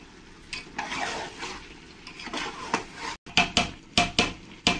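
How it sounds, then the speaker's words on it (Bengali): Chicken sautéed in a pot for chicken biryani, with a spoon scraping and stirring against the metal in repeated strokes that grow quicker and crisper toward the end. "চিকেনটা দিয়ে ভালো করে আমি কষিয়ে নেব।"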